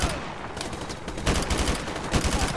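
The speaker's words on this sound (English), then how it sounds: "They got some nice shots on us." Rapid automatic gunfire in Call of Duty: Modern Warfare Remastered, loud bursts of fast repeated shots rattling close by, with a short lull before another run of firing.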